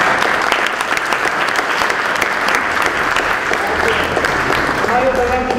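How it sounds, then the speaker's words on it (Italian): Loud, dense audience applause at a presentation event at Fabbrica del Vapore, sustained clapping filling the room without pause, with a voice starting to speak over it near the end. "Farei un applauso a Mario."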